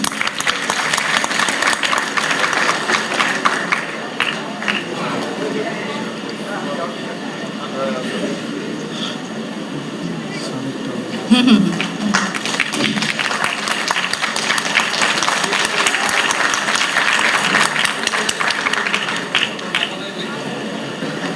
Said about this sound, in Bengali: আর একটি হাততালি চাইছি